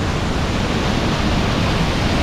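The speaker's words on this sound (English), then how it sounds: "There's the waterfall." A loud, steady roar of falling water fills the scene, broadband and unbroken throughout, like a waterfall heard up close.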